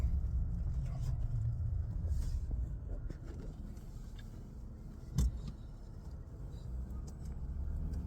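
A car drives through a rough neighborhood, low road rumble and engine hum from inside the cabin, with a brief clunk midway and light rattles.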